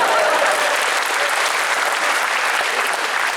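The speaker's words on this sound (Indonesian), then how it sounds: "Tepuk tangan buat saya" Loud, continuous audience applause at a university library event in Indonesia, dense and unbroken clapping from a large crowd.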